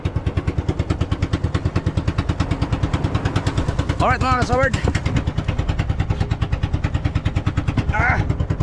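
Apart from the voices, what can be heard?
boat engine starting and running at sea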